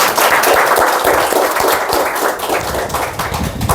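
Congregation applause during a Korean church service, a loud, close wash of many people clapping that fills the whole moment and tapers slightly toward the end, without speech.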